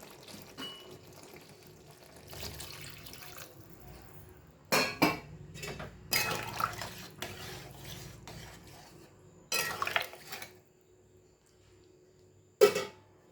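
Water is poured into a pan of pumpkin, potato and prawn curry, with intermittent clinks and splashes of utensils against the pan amid quiet pauses.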